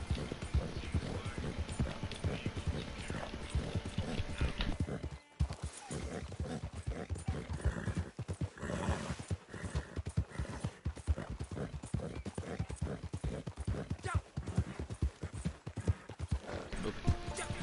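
Horse hooves clip-clop steadily in the video game Red Dead Online, a quick rhythmic trot heard close up with a brief whinny and faint game ambience, while someone talks over it.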